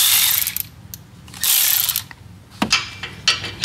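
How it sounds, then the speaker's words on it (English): Socket ratchet removing bolts inside the front fender of a Ford Bronco, heard as close, crisp clicking ratchet strokes in two longer runs followed by a few shorter bursts, without talk. "we're going to take our 5/8 socket and remove those"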